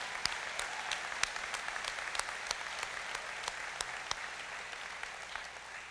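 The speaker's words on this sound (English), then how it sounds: "let's give a big round of applause for him." A large crowd at the Choctaw Nation State of the Nation gathering applauds Jack Austin Jr., a continuous dense roar of clapping with a few sharper individual claps standing out near the front.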